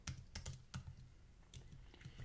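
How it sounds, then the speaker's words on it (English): Typing on a computer keyboard, quiet irregular key clicks in short bursts with brief pauses, close and faint, with no voices. "I'm going to start typing some content in here using just some simple filler stuff"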